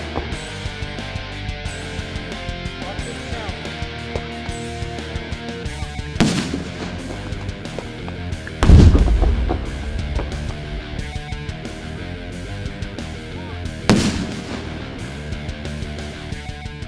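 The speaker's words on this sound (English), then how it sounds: "So these are small explosions, right?" Small one-pound explosive charges detonate at an FBI training range, three sharp booms spread across the stretch, the middle one loudest with a rumbling tail, over steady background music.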